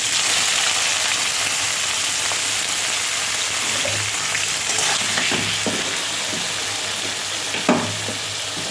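Onions frying in hot oil with bay leaf, dried red chillies and whole garam masala, a continuous close hiss and crackle like rain, with occasional spatula scrapes toward the end.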